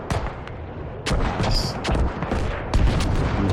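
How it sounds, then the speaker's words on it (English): Airstrike explosions hit a T-72 tank in a tactical military shooter on the Talil map, with a series of booming, crackling blasts and bursts of fire, some close and loud, over a continuous rumble. "Airstrike going in, taking out a tank."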